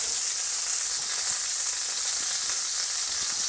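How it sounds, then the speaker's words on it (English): Bacon with its fat left on fries in a pan for a venison stew, producing a dense, even crackling sizzle that holds steady and close for the whole stretch. "I'm even going to leave the fat on, get that nice and crisp."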